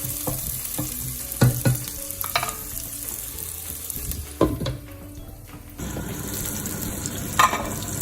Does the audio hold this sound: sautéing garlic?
yes